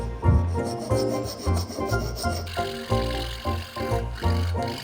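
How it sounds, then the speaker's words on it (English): A file rasps against the bridge and nut of a Thai phin, a lute being restored, in quick, repeated strokes close by, steady and rhythmic, with a short break partway through. "I needed to file down the bridge and nut."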